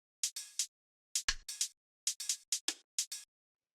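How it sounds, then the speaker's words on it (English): Drum rack percussion pattern of crisp hi-hat ticks in quick clusters, with occasional low percussion hits, repeating in a tight, dry rhythm with silence between groups. "I have these two hi-hats in here"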